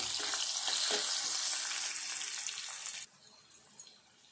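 Chopped onions with turmeric hiss loudly in hot oil for about three seconds, then the sizzle drops abruptly to a quieter murmur with a single soft knock near the end.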